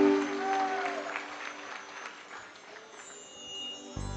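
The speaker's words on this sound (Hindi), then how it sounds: "जरा तालियां बजा दो" An audience claps steadily through a live Hindi devotional bhajan performance, a dense continuous patter of applause that swells slightly toward the end.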